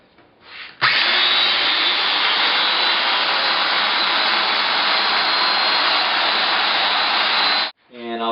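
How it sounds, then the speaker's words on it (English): A Festool Domino joiner cuts a mortise into butcher block, starting with a sharp surge and then whining steadily and loudly for about seven seconds before spinning down, with only a faint sound before it starts. "I'm going to mortise in my butcher block at the 20mm stop because there's no 18mm stop"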